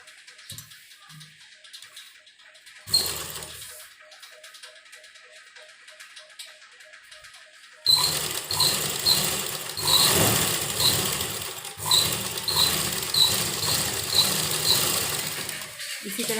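A sewing machine stitches a folded 1.5-inch fabric edge for a baby suit, quiet at first with a short burst, then running loud and steady with a rapid rhythmic clatter.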